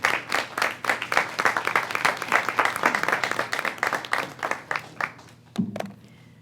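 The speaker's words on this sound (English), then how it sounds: "by your applause, you're supporting her" An audience at a community event on speeding along Route 210 claps for a county executive, many hands forming steady, dense applause that thins and fades out near the end, with a brief low thump just before it stops.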